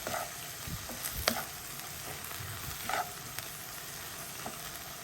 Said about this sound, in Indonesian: Lalu aduk hingga tercampur rata.